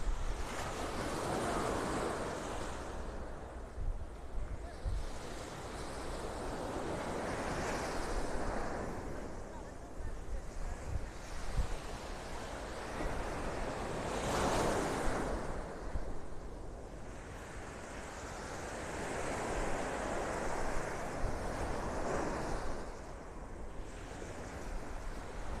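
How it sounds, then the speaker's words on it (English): Surf rolls onto a quiet North Naples, Florida beach in the morning, waves breaking in slow repeated swells with steady wind noise across the microphone. "Quiet, quiet beach morning."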